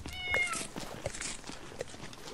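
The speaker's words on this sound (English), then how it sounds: "The cats in this game are such assholes." A cat in the video game Minecraft gives one short, clear meow near the start, followed by quiet ambient game sounds.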